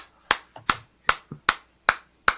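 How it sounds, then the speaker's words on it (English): Several sharp hand claps, about six to eight, spaced unevenly over two seconds, crisp and close with quick decays in a quiet room. "We'll give you a few claps."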